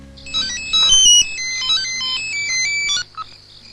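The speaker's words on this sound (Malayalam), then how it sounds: "ഫോൺ വിളിക്കുന്നു." A mobile phone plays a bright melodic ringtone, a rapid run of electronic notes rising and falling for about three seconds before stopping, followed by a short blip.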